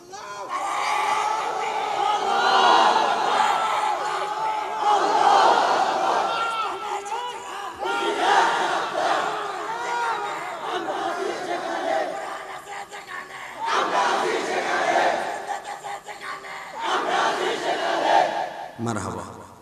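A crowd at a religious gathering shouts takbir in loud collective waves that rise and fall repeatedly, with a voice leading between the surges.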